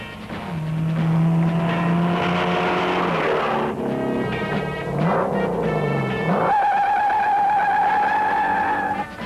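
1968 Shelby Mustang GT 500 with a 428 V8 accelerating hard on a 0 to 60 run, a loud, close engine roar climbing through several gear changes with rising pitch and brief dips between shifts.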